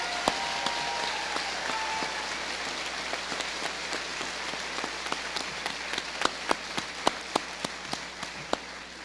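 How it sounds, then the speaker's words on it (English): Audience applause fills a commencement ceremony at a community college in New Hampshire, a dense, steady wash of clapping across the hall that thins toward the end as a few sharp, louder individual claps stand out. "A thunderous applause, please."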